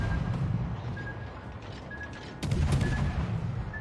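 The Swedish destroyer Skåne fires its rapid guns in the World of Warships video game, a low rumbling volley that swells into a louder burst of overlapping booms partway through, with no voices.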